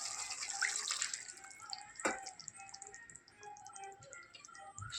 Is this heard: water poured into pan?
yes